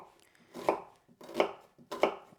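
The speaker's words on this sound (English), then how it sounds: "have 2 of these red onions that I'll just dice up" Red onions being diced with a knife on a board, three distinct close chops at an even rhythm, with no talking.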